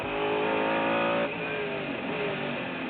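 Onboard at Le Mans in 1999, Bouchut's race car engine screams at high revs, loud and close, then the pitch drops as it shifts and pulls again.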